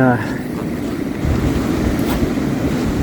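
Wind rushes loudly across the microphone at a beach, with a constant blustery roar and faint surf underneath.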